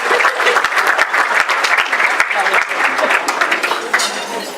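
Sustained applause fills a room at a Solid Rock graduation and promotion ceremony, dense, close and even throughout, with a faint crowd murmur underneath.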